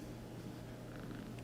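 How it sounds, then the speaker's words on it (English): A contented female house cat purrs close up, a steady low rumbling vibration that runs unbroken through the whole moment with no voices over it. "the purr machine is going"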